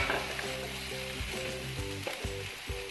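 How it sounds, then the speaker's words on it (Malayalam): Chopped onion being sautéed in a pan for a bread pathiri snack, sizzling and frying steadily while a spoon stirs with regular scraping strokes, close and without voices. "അതുകൂടി ഇതിലോട്ടേക്ക് ഇട്ടൊന്ന് വഴറ്റിയെടുക്കാം."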